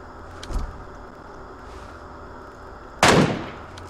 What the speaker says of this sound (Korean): 총소리가 좋은데?